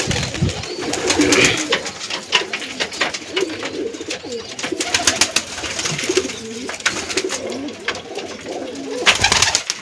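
Pigeon cooing, repeated soft throaty coos in an uneven rhythm, close and fairly clear over light background rustling and clatter.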